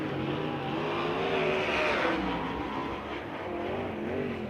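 A sprint car at Lawrenceburg runs a qualifying lap, its engine a loud continuous roar that rises and falls slightly as it circles the track.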